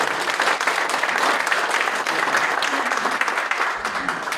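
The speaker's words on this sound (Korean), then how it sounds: "박수를 부탁드립니다" Applause at a church elders' association general assembly thanksgiving service: a dense, sustained round of clapping from a large room full of people, even and continuous throughout.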